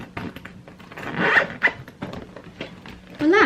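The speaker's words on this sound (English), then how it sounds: "so I can zip this up" A packed, full makeup and skincare travel bag being zipped closed, a quick ripping zip run close by that finishes with a sharp tug at the end, no talking over it.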